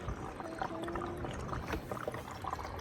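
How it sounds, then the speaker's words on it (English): Faint water trickles and drips down through the pockets of a Greenstalk vertical planter, fed from a reservoir on top while bare-root strawberries are planted. The soft, irregular splashing continues throughout against quiet background noise. "you can actually hear, I don't know if you can hear the water coming down and watering all the pockets"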